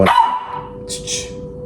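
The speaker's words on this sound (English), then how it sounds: "Sorry, that was my dog." A dog gives a single sharp bark close by, followed briefly by faint higher yips as the sound fades.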